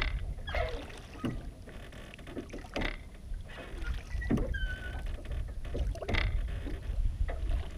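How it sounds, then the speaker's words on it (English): Oars working a small fishing boat on a reservoir while trolling for trout, giving a series of soft splashes and knocks roughly every second or so over wind and water noise, close to the microphone, with no talking. "no matter how you row,"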